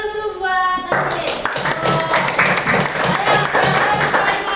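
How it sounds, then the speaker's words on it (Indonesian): Applause in a classroom greets a student named Tasmin after she speaks about wanting to become a teacher, a steady burst of clapping from a group of pupils that starts abruptly after a teacher's voice and carries on to the end. "Tepuk tangan dulu buat Tasmin."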